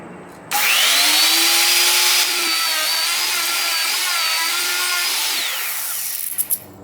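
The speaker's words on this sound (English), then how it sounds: "I always do a conventional cut on a handheld router." A handheld router cuts the control cavity into a wooden guitar body, starting abruptly and holding a loud, steady high whine for about five seconds before spinning down.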